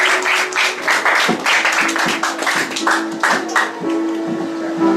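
Crowd clapping at a church presentation ceremony, a steady dense patter of many hands that rises and falls over several seconds, with music or a sustained tone running underneath.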